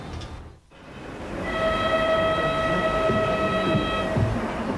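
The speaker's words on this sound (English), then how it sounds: "As the Kungayev's train arrives just before dawn, after 2 long days' journey to Rostov-on-Don" A train pulls into a station just before dawn, closing a two-day trip to Rostov-on-Don, with a loud steady rumble and a sustained high whistle or brake squeal through most of it, and no talking.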